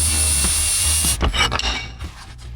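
A power tool whines steadily at close range, then cuts into a piece of flat bar steel, giving several rough grinding bursts before it winds down.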